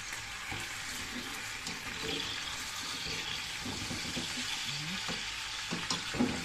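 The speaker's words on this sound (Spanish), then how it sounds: "la panceta salta bastante." Pork belly bacon sizzles and spatters in a pan with a steady crackling hiss and scattered sharp pops, close by and continuous, with no voices.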